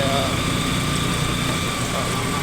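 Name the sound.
motorcycle engine running with a fault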